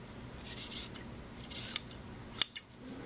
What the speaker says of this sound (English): take the scissors and trim off